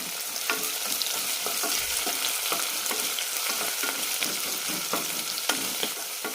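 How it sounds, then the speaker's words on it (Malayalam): Onions and green chillies sauteing in a pan with cashews and raisins, a steady sizzle broken by repeated scraping stirs of a spoon, close and moderately loud with no talking. "കൂടെ തന്നെ സവാളയും പച്ചമുളകും, നന്നായി വഴറ്റും."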